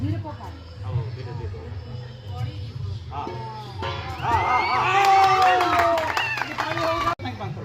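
A group claps and cheers together at a family fun day, lively crowd noise and children's voices building to a loud burst of shouting and whoops near the end.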